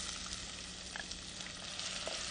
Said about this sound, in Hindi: इसमें हम डालेंगे प्याज जो बारीक काट के रखा है हमने